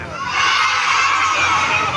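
Crowd of children imitating a goat's bleating together, a loud sustained chorus of voices from the group lasting about two seconds.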